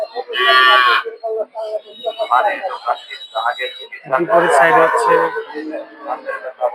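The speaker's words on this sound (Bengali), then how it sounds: "দেখতে পাচ্ছেন এই পাশে অনেক গরু আছে" Cows moo amid a busy crowd at a rural cattle and goat market in Narsingdi, Bangladesh, with people talking throughout and a loud nearby bellow at the start.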